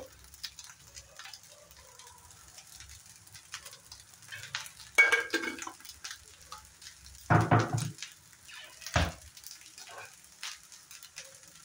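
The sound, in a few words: frying and stirring egg fried rice in a pan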